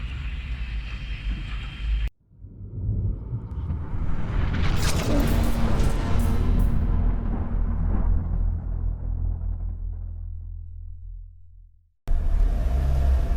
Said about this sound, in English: We're at Oulton Park, and there's a lot of expensive cars here